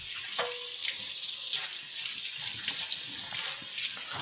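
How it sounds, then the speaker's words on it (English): Tap water runs steadily into a kitchen sink while a knife is rinsed, a close, continuous splashing hiss with small shifts as the blade moves through the stream. "Wash my knife."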